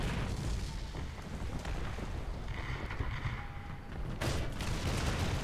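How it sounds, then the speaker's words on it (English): Artillery barrage in War Thunder pounding the area around a KV-1 L11 tank, a dense continuous rumble of booms and blasts with no clear gaps, loud and steady throughout. "They're barraging our square again."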